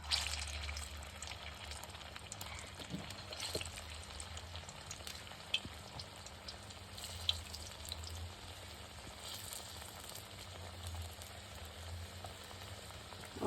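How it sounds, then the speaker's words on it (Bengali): Sweet dough made with palm fruit pulp fries in hot oil, a soft, even bubbling sizzle with occasional small pops, quiet and close. "অল্প অল্প করে দিয়ে ভেজে নেব।"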